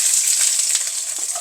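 Shallots fry with fennel seeds in hot coconut oil for a Kuttanad-style duck roast, making a loud, close, continuous sizzle with bright crackling bursts and no talking.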